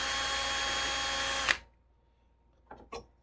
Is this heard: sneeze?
no